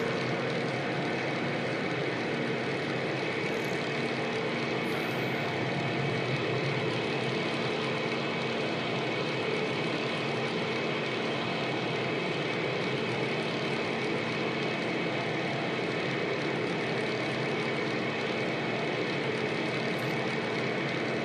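Steady airplane engine drone from a flight simulator cockpit, a continuous even hum with a constant tonal whine, holding at moderate level throughout with no talk.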